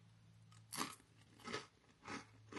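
Close, crisp crunching of M&S crisps being chewed, with three or four distinct bursts of crackly bites spaced evenly over a couple of seconds.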